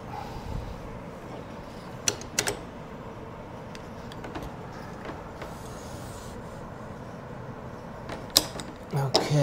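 A mat cutter draws a bevel cut through a window mat, quiet scraping and creaking glides with a few sharp clicks and knocks scattered through, close and low in level, ending with a louder clatter.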